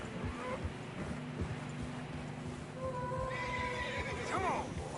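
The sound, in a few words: horses neighing and hooves in snow, Red Dead Redemption 2 video game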